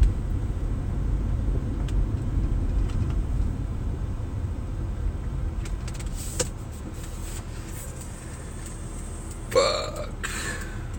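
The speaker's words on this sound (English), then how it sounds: "And there's already traffic." Road traffic heard from inside a car pulling out of a driveway near a school, a continuous low engine and tire rumble that eases off midway, with a brief louder thump near the end.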